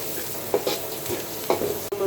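Spiced Filetsa fish masala frying in a pan with onion and chili, stirred in a few scraping strokes over a steady low sizzle, close and moderately loud with no talking.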